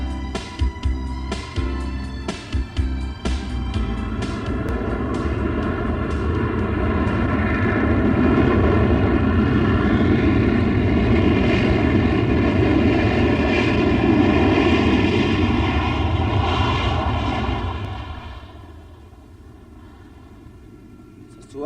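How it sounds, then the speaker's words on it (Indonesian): An airliner arriving from Surabaya sweeps in loud and close, a broad roaring engine noise with droning tonal whine that builds, holds steady, then fades sharply near the end, leaving a quieter rumble. "Pesawat pertama dari Surabaya mendarat."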